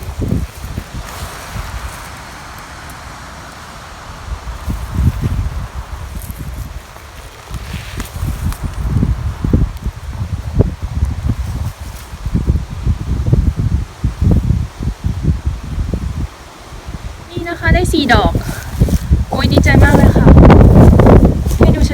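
Strong wind gusts through a forest during mushroom foraging, with bursts of leaf rustling and microphone buffeting that swell and fade, loudest near the end, while someone talks intermittently.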